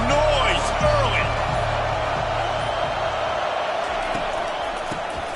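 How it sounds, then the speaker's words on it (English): Football stadium crowd roaring in a broad continuous swell, loud at first and gradually easing, with a few whistles and shouts rising above the din. "This crowd bringing the energy and noise early."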